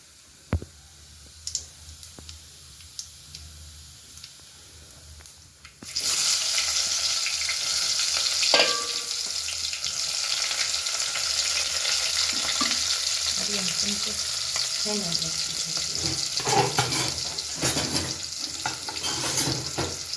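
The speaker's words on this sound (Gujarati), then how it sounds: "હવે ફટાફટ એને વઘાર કરી નાખું" Spices tempered in hot oil for a bitter gourd curry hiss into a loud, steady sizzle that starts suddenly partway through after quiet handling noises, with light clicks and stirring over it.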